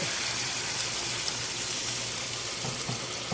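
Water runs steadily into a cooking pot as a broth or stock is made, a constant hissy gush at moderate level with no talking.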